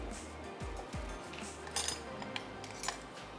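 Spoons and a mixing bowl handled while preparing yogurt for Behari boti, giving a few faint, scattered clinks and taps against a quiet background.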